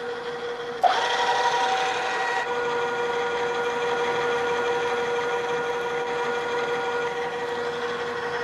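A steady mechanical whine with a sharp onset as a drill bores a hole into metal in a machine shop, running continuously without pause at close range.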